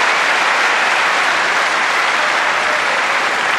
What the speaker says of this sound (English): Well, they're cheering